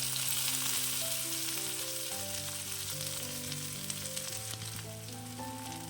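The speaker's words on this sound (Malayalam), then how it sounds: "ആദ്യമേ തന്നെ ബ്രൊക്കോളി ചേർക്കുക." Broccoli frying in a hot pan with spluttered mustard seeds, a steady close sizzle running throughout beneath a layer of background music.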